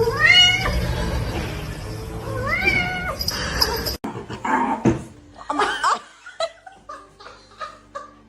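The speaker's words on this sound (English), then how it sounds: "I told you it was a little kitty." Small kitten giving several high, rising meows close by, then laughter and chatter from people with scattered short sounds.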